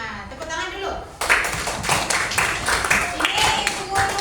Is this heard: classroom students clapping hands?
yes